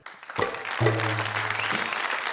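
A comedy-show audience of men bursting into applause, a dense burst of clapping that starts suddenly and carries on steadily, fairly loud and close, with a low murmur underneath.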